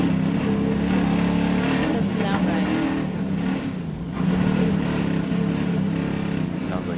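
A race car at Knoxville Raceway during a Superstar Racing Experience event roars steadily throughout, its exhaust drone sitting under continuous commentators' voices.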